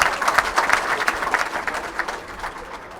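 A crowd at a BJP joining event for Subhash Maharia breaks into applause, a dense wash of clapping that is loudest at the start and fades gradually over three seconds.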